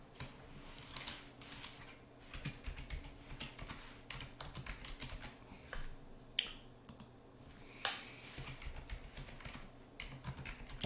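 Fingers typing a password on a computer keyboard, a quiet, close run of irregular key clicks and taps with brief pauses and a couple of sharper strikes.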